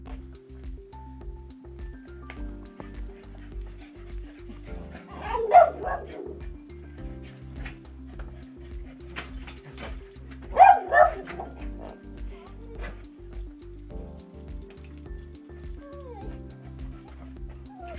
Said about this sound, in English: And Scotty had the cutest bark